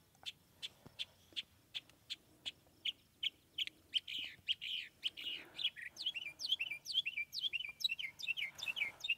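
A northern mockingbird sings outdoors, starting with evenly spaced sharp chirps and building into faster, denser runs of varied whistled and warbled phrases, fairly faint and unaccompanied by talk.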